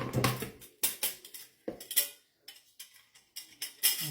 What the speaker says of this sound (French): un petit coup de presse purée à main